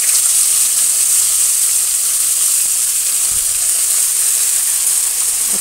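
Fenugreek and mung beans with fennel seeds sizzle steadily in a hot pan at home, a loud, continuous frying hiss that runs unbroken throughout with no one speaking.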